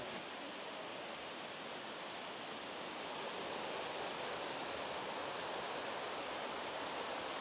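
Steady, unbroken roar of rushing water from the second tier of Erawan waterfall in Thailand, dense and constant with no other sounds.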